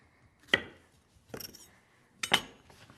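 Three sharp knife chops as the ends are cut off a yellow squash on a cutting board, close and crisp, spaced about a second apart in an otherwise quiet kitchen.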